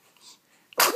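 A single sharp sneeze from a person at a family Christmas gathering, close and loud, after a brief quiet intake of breath.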